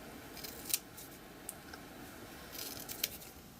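Scissors snip through corrugated cardboard in a few sharp, separate cuts, one near the start and another near the end, with quiet room noise between and no talking.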